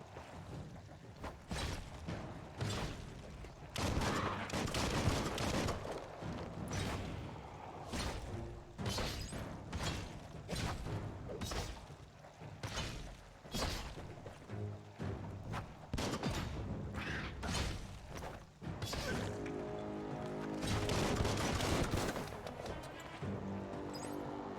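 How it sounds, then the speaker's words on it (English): Dense gunfire in the video game Biomutant on extreme difficulty: rapid, loud bursts of shots crack one after another without pause, layered with thuds and whooshes of combat. "Bullets everywhere."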